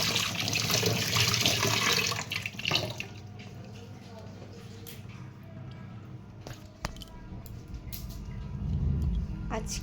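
Water runs from a kitchen tap while hands are washed, a loud hiss at first that settles into a softer steady splash, with clattering and a voice talking over it.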